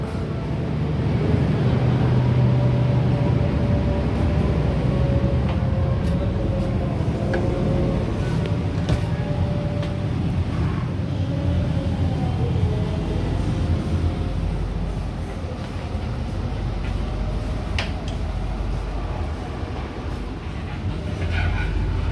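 Steady low rumble and rattling of the moving KA Blambangan Express passenger train in Indonesia, heard from inside a carriage, with continuous wheel and track noise and occasional faint clanks.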